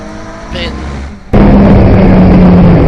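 Racing cars thunder past at Pembrey circuit during a classic saloon race with a Ford Fiesta in the pack, the engine roar surging suddenly loud and close after a quieter stretch of distant running.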